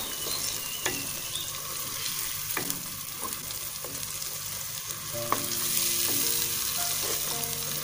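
A paste of onion, tomato and green chilli fries in a pan for egg curry while being stirred. A steady sizzle runs throughout, with repeated utensil scrapes and clinks up close and no voices.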